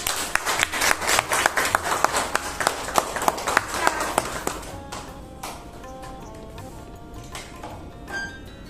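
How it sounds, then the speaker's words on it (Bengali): An audience claps for a contestant at a stage event, a burst of many hands with crisp individual claps that is loudest at first and then thins out into scattered claps and fades. "একটা জোরে হাততালি হোক।"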